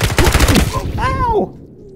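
Quick burst of close, loud gunshots in the game Ironsight, a fast run of cracks lasting under a second, followed by a short voiced exclamation as the firing stops.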